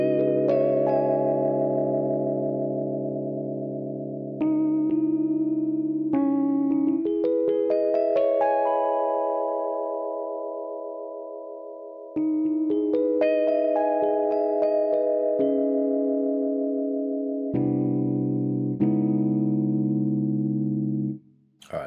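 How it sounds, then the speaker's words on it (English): Spooky synth keys drenched in tremolo and vibrato play slow sustained chords, each held note wavering and shimmering, moving through several chord changes with short gaps before cutting off at the end. "I like sort of spooky key sound, so I'm going to put a bit of vibrato on that."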